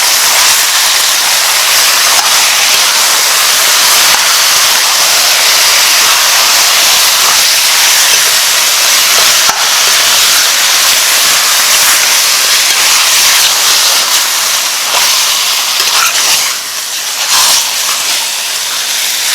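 Beef and lamb stew meat searing in a hot pot, giving a loud, steady broadband sizzle and hiss that runs almost unbroken throughout, with no talking.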